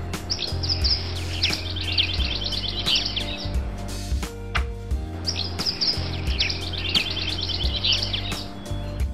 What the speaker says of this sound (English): it just sounds just like a bunch of birds chirping